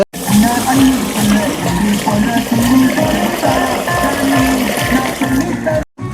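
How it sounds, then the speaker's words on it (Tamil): Water is poured into Tulsi rice for chicken biryani, a loud, close, continuous splashing and gurgling that runs for several seconds before stopping abruptly near the end. "இப்போ தான் நம்ம வந்து இந்த துளசி ரைஸுக்கு வந்து தண்ணி சேர்க்க போகிறோம்."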